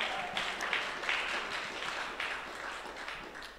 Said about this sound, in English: Please clap for Prof.